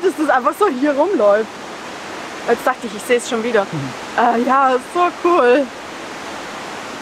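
Many jungle cascades and waterfalls on the Mexico–Guatemala border produce a constant broadband rushing hiss, steady in the background beneath people talking in German.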